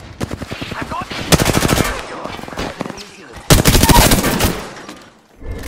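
Rapid automatic gunfire in the Apex Legends battle royale game, with two loud, close, sustained bursts separated by quieter scattered shots and game noise.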